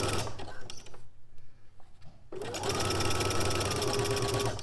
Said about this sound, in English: Normally I would sew from the other side.